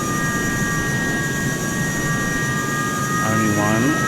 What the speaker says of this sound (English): Does sound like the engine's still trying to start.